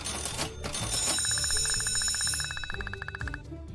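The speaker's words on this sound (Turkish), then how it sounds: "İşte zil çalıyor." An electric school bell in the Kindergarten video game rings in a fast, steady trill for about two seconds over the game's background music and sounds.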